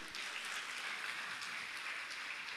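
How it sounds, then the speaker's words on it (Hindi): Audience applause at a Jain religious gathering with Muni Shri Praman Sagar, steady dense clapping from a crowd throughout, moderately loud and unbroken, with no voices over it. "अनुमोदना करके ताली तो जरूर"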